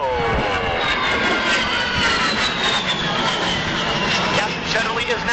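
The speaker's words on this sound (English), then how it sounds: "Captain Shutterly is now performing a classic aerobatic maneuver, the Cuban 8" A-10C Thunderbolt II jet at an airshow display during aerobatics, its loud continuous engine roar with shifting whine filling the air. An announcer's voice can be heard under the noise.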